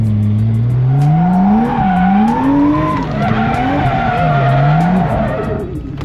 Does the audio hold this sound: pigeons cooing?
no